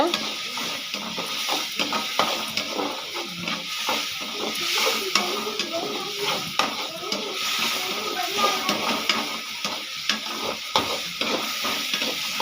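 Onions sizzle in hot oil in a pan for chicken gravy, a steady frying hiss broken by repeated scraping strokes of a stirring spoon, with faint voices in the background.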